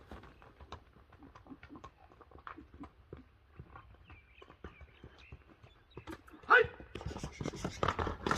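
A purebred racehorse gallops away, its hoofbeats a quick clip-clop patter that fades with distance, with people talking over it and a louder burst of noise near the end.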